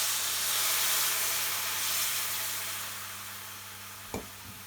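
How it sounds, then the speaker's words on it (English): Base gravy sauce sizzles steadily in a hot pan for a British Indian Restaurant korma while being stirred, a dense continuous hiss that fades slightly before a brief scrape near the end. "Add about a third of the base gravy sauce and stir for 30 seconds,"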